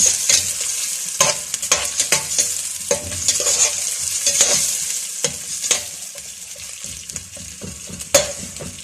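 Boiled chicken and vegetables are stir-fried for chicken fried rice. Oil sizzles steadily beneath repeated sharp scrapes and clacks of a spatula against the pan, with bursts of stirring every second or so.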